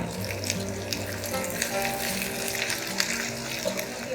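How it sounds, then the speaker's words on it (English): Onions fry in a pan with slit green chilli and ginger garlic paste for achari paneer, a steady close sizzle with soft stirring scrapes and a low hum beneath. "Now we'll add in the slit green chilli and the ginger and garlic paste."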